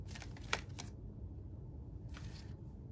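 Oracle cards being shuffled for a pick-a-card reading: two short, soft riffling bursts of card flicking, close and fairly quiet against a low background hum, with a pause between them.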